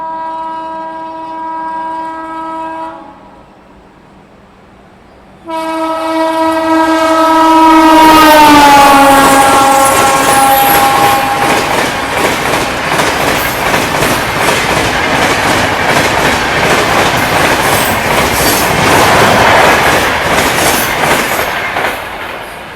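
A Bhubaneswar Rajdhani Express rushes past a halted train, opening with a loud multi-tone horn blast, then a second long horn as it arrives, followed by a sustained close roar of wheels and clattering coaches.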